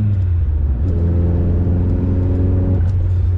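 A VW Scirocco MK2 fitted with a Yamaha R1 motorbike engine revs hard under acceleration, a loud, close, steady engine roar with a rising tone through the middle and no talk.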